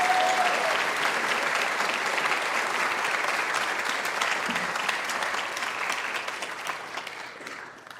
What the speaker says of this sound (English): Please, let's give a round of applause to our presenters and donors here today.